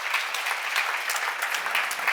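A church congregation at a seminar claps together, a dense, even roar of many hands from a large room, filling the short stretch without any speech.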